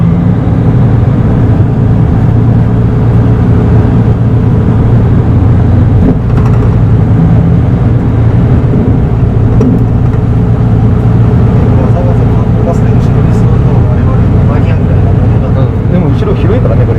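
Deep, steady drone of a first-generation Mitsubishi Fuso Aero Bus V8 engine, loud and continuous throughout with a low rumble, while people talk over it.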